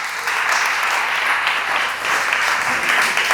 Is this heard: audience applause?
yes